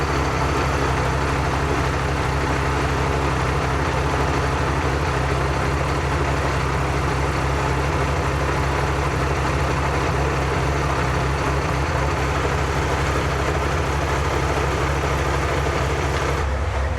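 Ferrari F355 Challenge clone engine with individual throttle bodies idling steadily at roughly 1000 rpm, a loud, constant low rumble that fills the whole stretch without any talking.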